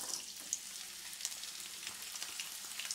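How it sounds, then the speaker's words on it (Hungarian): Garlic fries in about two tablespoons of hot oil in a pan, giving a steady close sizzle with crackles and small pops scattered throughout, and no voices. "Beleöntöm az olajat, egy úgy 2 evőkanálnyi nagyjából az olaj, és belerakom a fokhagymát."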